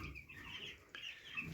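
Broiler chickens in an indoor pen on a farm give soft, faint clucks and murmurs over a short stretch.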